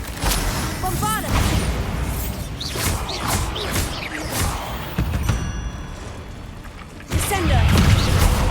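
Spell blasts from Hogwarts Legacy combat, with booming explosive hits, whooshes and crashing impacts piling up in a loud, chaotic fight, and a final heavy burst near the end.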